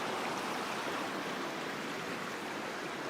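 Cold snowmelt water flows in a deep stream in Washington State, a steady, close, broadband rushing that stays constant throughout with no voices.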